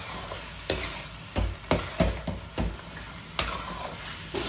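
Chili powder being stirred into chicken gravy frying in a pan, with several distinct scraping stir strokes spaced irregularly over a soft, steady background sizzle, close and moderately loud.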